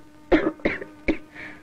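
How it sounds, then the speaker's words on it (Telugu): A young woman coughs three times in short, sharp bursts about a third of a second apart, close and fairly loud, followed by a softer breathy throat sound. "అమ్మాయి దగ్గుతున్నట్టుంది."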